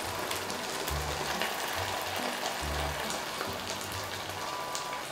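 Steady, dense sizzling of mapo tofu frying in a hot wok, continuous crackle and spatter throughout with no talking.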